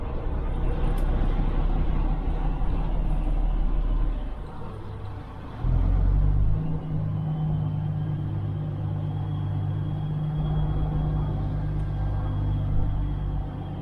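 Heavy trucks rumble at a crowded truck stop, a deep steady engine drone that dips briefly before a louder truck pulls close and idles, continuous low roar with no talking.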